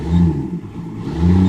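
A 1991 Blue Bird bus converted to an RV, its engine blipped twice in quick succession, loud and close, with a dip between the two rises.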